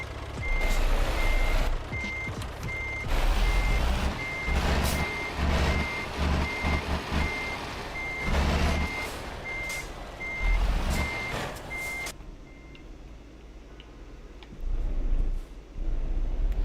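A truck in Euro Truck Simulator beeps steadily while reversing on a Nordic road toward Honningsvåg. The loud, evenly spaced warning tones sit over engine rumble and an air-brake hiss, then stop, leaving a quieter idle.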